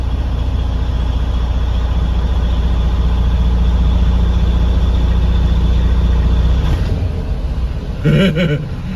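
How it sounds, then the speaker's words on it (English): A heavy truck engine, badly shaking, idles with a deep steady rumble, then strains and lugs as the clutch is slowly let out, the rumble breaking off near the end with a brief mechanical clatter and a short burst of voice. "it's gonna put power to this engine, and it's gonna try to go very slowly, releasing the clutch. Watch what this engine does."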